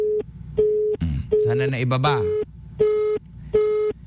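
Repeating phone ring tone during a call on a Filipino local news radio broadcast, steady beeps in regular bursts with someone speaking over the middle of the sequence.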